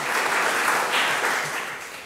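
An audience applauds at an opening ceremony, a steady, dense clapping that stays loud for a couple of seconds and then begins to taper off, with no voices.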